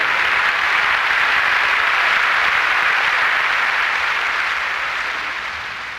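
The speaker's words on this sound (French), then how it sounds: "Allez-y, applaudissez le Seigneur." A church congregation at a service applauds continuously, a thick, even roar of many hands that holds steady before slowly tapering off.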